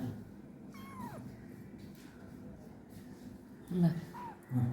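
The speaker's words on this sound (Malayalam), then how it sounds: "ആ പൂച്ചക്കുട്ടി ഇവിടെ ചാടി കയറാൻ നോക്കുന്നുണ്ടോ" A kitten gives a few thin, high meows between bursts of muffled nearby talking and rustling, fairly quiet overall.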